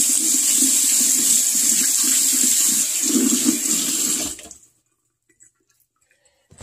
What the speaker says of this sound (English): Well, maybe just wash my hands.